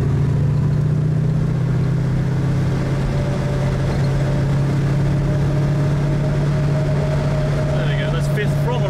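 A 4.6 Stage 3 MGB GT V8 cruising in fifth gear on a dual carriageway gives a loud, steady low engine drone with road and wind roar inside the cabin, and a voice speaks briefly under it.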